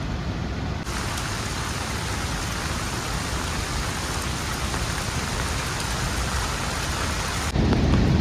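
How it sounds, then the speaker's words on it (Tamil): Heavy rain pours steadily through a dense forest, a continuous loud rushing wash that also carries the roar of a nearby waterfall, with a brief shift in tone near the end. "காய்ஸ் பால்ஸோட சத்தம் மட்டும் கேட்குதுங்க"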